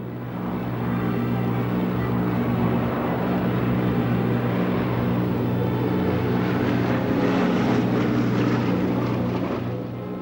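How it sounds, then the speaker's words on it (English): A WWII bomber flies low toward its target, a loud, sustained droning engine hum with a steady pitch that swells slightly toward the end. "the aircraft dropped down to the deck as they approached the target"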